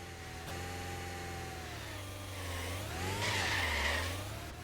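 Car drifting in a supermarket life-simulator video game: a sustained engine drone with a rising, sweeping tire squeal that peaks near the end, loud and steady with no speech.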